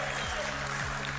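A church congregation claps in a brief, dense burst of applause, steady and fairly close, with a low hum of voices beneath.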